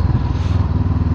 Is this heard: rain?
no